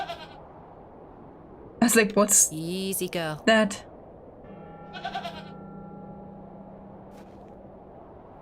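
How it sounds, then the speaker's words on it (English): A tethered goat in the Hob's Barrow adventure game lets out a couple of clear, close bleats, following a stretch of talk over a quiet background. "Oh, it's a goat."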